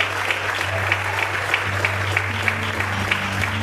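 A church congregation claps together through an evangelical service, a steady dense wash of hand claps with faint voices mixed beneath and a low organ or keyboard tone holding underneath.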